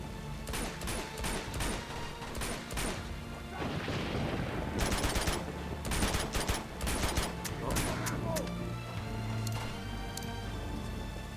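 Gunfire in the Uncharted 2 video game, repeated bursts of automatic shots and crashing impacts spread across the span, loud and close.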